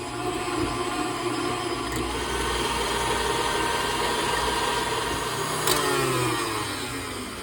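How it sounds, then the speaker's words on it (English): An electric whisk runs on high through pumpkin pie whipped topping, a steady loud motor whine with slight pitch shifts as the beaters work, continuous and close with no speech. "I'm going to whisk this on high for probably a good 3 to 5 minutes."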